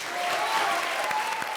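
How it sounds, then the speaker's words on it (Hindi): An indoor comedy-show studio audience breaks into loud, sustained applause, dense clapping filling the brief moment at a steady level. "तो ताली बजाओ फिर।"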